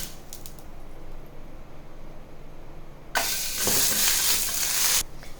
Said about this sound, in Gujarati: હવે આ વઘારને આપણે મગમાં રેડીશું.